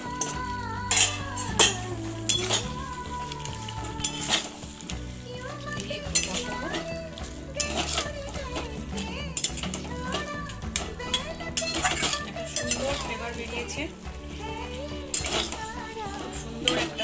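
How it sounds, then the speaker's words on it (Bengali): Capsicum and chicken go into a pan of spiced oil for a Bengali chicken dish, giving clattering utensil knocks and stirring scrapes along with a soft sizzle, set against steady background music. "এইবার আমি ক্যাপসিকাম আর চিকেনটা এর মধ্যে দিয়ে দিচ্ছি"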